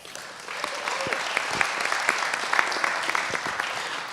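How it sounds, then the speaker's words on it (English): An audience at a developer-day keynote applauds, a dense wash of clapping that carries on steadily for several seconds at moderate loudness, with a few louder individual claps standing out. "Thank you for the applause."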